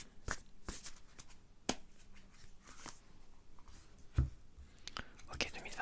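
Tarot cards are shuffled and drawn close up, with quick riffling flicks and sharp card snaps scattered over several seconds and soft whispering in the background.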